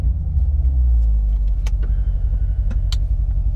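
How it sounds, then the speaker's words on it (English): A 2014 Chevrolet Corvette C7 Stingray rolls along with its active exhaust valves open, giving a steady, loud low rumble from inside the car and a few faint clicks and rattles over the top. "This does have an active exhaust system and the valves are open right now and they will be the whole day."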